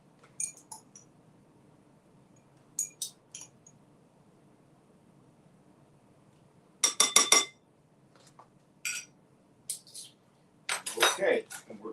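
Cutlery clinks and jangles in short bursts while someone searches for a teaspoon to make a cocktail, scattered metallic clatters growing louder and busier toward the end, close and otherwise quiet.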